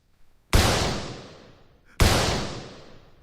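Two loud gunshot sound effects in a Joseon palace setting, each a sharp, close crack with a long booming, reverberant tail, spaced about a second and a half apart with no talk.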